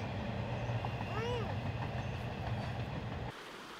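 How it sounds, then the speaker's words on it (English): A train passes nearby with a continuous rolling rumble and a brief high wheel squeal, while voices talk over it. The sound cuts off abruptly near the end. "Are you watching the train?"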